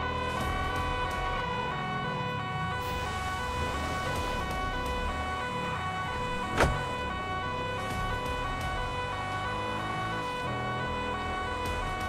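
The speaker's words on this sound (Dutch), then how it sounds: "Even die sirene uit." Police siren in the FiveM roleplay mod of GTA V, a continuous wailing tone rising and falling in steady sweeps, loud and close, over low car engine rumble.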